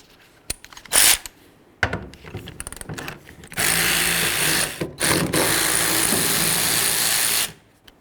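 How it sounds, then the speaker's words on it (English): Tailgate mounting bolts on a 1994-2004 Chevy S-10 are loosened with scattered clicks first, then long continuous buzzing runs of a power ratchet, loud and close, with a short pause between runs. "Then we're going to remove our 3 mounting bolts."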